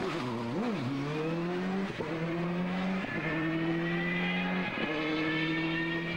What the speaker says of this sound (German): Krämer fährt auf der letzten Rille.